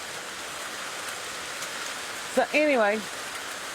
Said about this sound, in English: it is now raining in West Virginia